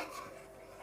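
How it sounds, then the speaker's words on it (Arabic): Tomatoes drop into a bowl with a brief, quiet clatter and knock of the dish, heard up close without talking. "حطوا بقى الطماطم الخطيره دي في البوله. يا جمالها وهي نازله في البوله كده"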